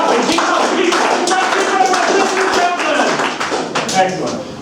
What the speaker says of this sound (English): Clap your hands again. Keep clapping, keep clapping, keep clapping.